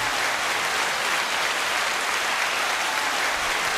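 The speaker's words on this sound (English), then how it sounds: "That's why they're cheering." Soundboard applause and cheering from a crowd on a garage podcast, a steady, dense wash of clapping and whoops that holds at a constant loud level throughout, with no voices over it.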